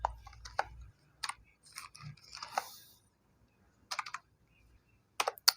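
Short bursts of keystrokes clack on a computer keyboard as C++ code is typed, scattered clusters of close, quiet clicks separated by pauses, with no voices.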